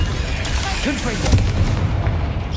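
Fiery spell blasts from a Hogwarts Legacy duel: a couple of loud booming bursts over a rumbling low din, with a short whooshing crackle in the middle and no voices.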